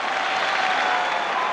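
Packed football crowd at Twerton Park Stadium roaring and cheering as the teams run out for a sellout Bristol Rovers match against Liverpool, a dense, continuous wall of noise throughout.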